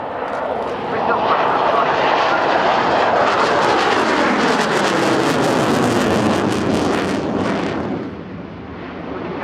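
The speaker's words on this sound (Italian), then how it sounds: "quello che noi definiamo è il jet noise" MiG-29 Fulcrum fighter jet at an air display, a loud sustained roaring engine blast with rushing broadband noise that swells and slowly shifts as the aircraft passes, easing near the end.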